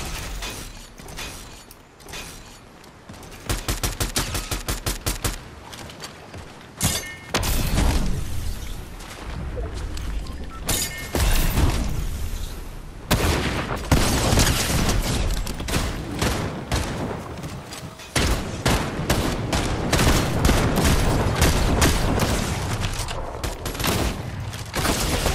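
Gunfire in the video game Fortnite, with dense rapid bursts of shots, booms and mechanical clicks rattling loudly and almost without pause throughout a hectic fight. No speech is heard.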